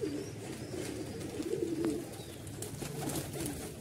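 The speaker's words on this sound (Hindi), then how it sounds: "ये कबूतर है" Soft, low pigeon coos repeat a few times, faint and close, over a quiet background hiss.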